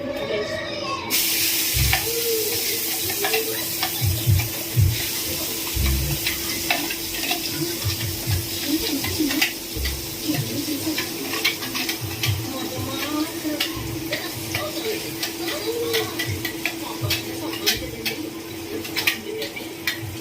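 Ground masala paste is stirred into an egg curry in a pan, with repeated soft scraping and tapping of a spoon under a faint steady sizzle and low background noise.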